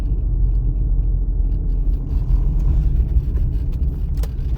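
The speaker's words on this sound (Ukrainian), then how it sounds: "об'їжджаємо автомобілі і потихесенько їдемо" A car creeps slowly past other vehicles on a route during a practical driving test, producing a steady low engine and road rumble that stays close and even throughout.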